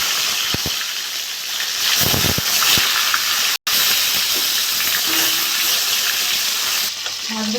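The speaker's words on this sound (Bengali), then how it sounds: "মাছগুলো ভেজে নেব" Pieces of rohu fish fry in hot mustard oil, a loud, close, steady sizzle and hiss with a few clinks and a brief break partway through, with no voices.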